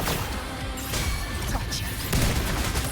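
Mortar fire during a battle in the game Wuthering Waves: a dense, continuous barrage of heavy blasts and crashes, loud and close, with speech partly buried in the din.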